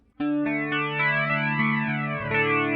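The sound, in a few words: guitar through flanger pedal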